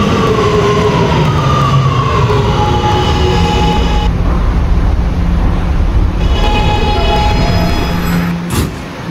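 An R subway train (R211A cars) runs through a Roblox game, a loud continuous rumble and rail roar with a sustained horn-like tone throughout and a short sharp burst near the end.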